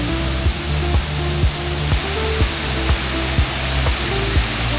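A small waterfall in the botanical park at Phong Nha, Vietnam, rushes in a loud, steady broadband roar close by, with no talking and a few faint rhythmic knocks under the flow.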